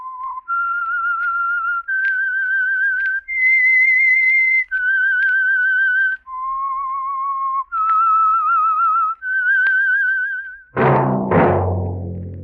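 A clear, solo whistled melody of long sustained notes, each held with a slight vibrato, stepping up and down, ending in a sudden orchestral chord, the theme of the 1947 radio drama The Whistler.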